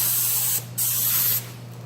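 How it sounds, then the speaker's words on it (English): An automotive paint sprayer hisses in two loud close bursts, separated by a brief pause, while coating a Sears GT/18 tractor frame during restoration. "we're using an automotive painting thing now. Sprayer, not really a painting thing, but it's a sprayer"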